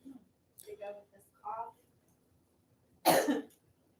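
A person gives a single sharp, close cough after a few soft breaths and murmurs of speech.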